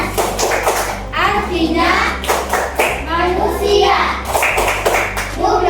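Children in an Islamic religious education classroom clap in steady rhythm while chanting the tepuk Anas verse together in unison, the sharp claps close and loud over their voices throughout.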